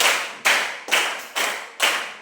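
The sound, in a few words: rhythmic hand clapping game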